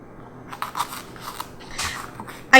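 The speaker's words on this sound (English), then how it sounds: "I'm going to cut off the tops of the jalapeno. And cut them down the middle." A knife slices through jalapeno peppers on a cutting board, giving a few short crisp crunching cuts, close and fairly quiet, with a sharper snap at the very end.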